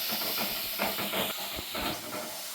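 Onions sautéing in a hot pan for chicken, giving a steady, close hiss and soft sizzle with faint crackles and no talking.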